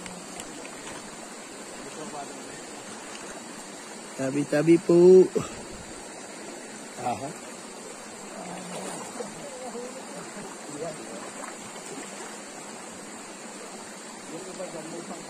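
A river flows with a steady broadband rush of water, running continuously near the listener while people speak and exclaim over it now and then.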